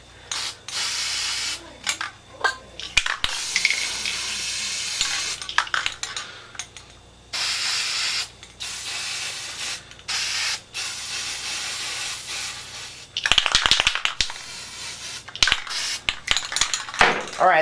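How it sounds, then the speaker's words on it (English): Aerosol spray paint hissing out in repeated bursts as black and green layers go onto a Nerf Triad blaster, with short pauses between passes and light clinks of handling. "We're going to go ahead and spray a couple more layers of black in there and green"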